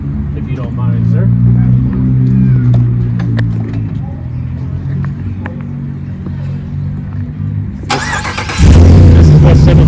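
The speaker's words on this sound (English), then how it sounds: "This is what 707 horsepower sounds like. Listen to that supercharger whine." A 707-horsepower supercharged truck engine at a Jeep show rumbles loudly and close, then cranks and fires in a sudden surge near the end, with people talking nearby.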